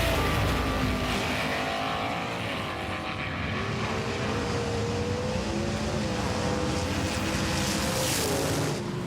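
Toy race cars Riveted and Metal Mania 3D, racing alongside a Welly Volkswagen Bug, give off a loud, continuous whirring roar with a high motor whine that bends in pitch, steady and close for the whole run with no voices.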